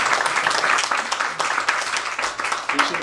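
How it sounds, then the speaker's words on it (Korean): Graduation ceremony audience at a theological seminary giving loud, sustained applause, many hands clapping densely and close for several seconds. "큰 박수 한번 부탁드립니다."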